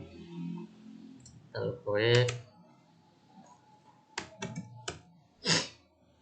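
Keys clicking on a computer keyboard while a table name is typed: a few sparse, crisp taps and a short cluster of clicks, with a brief voice sounding earlier.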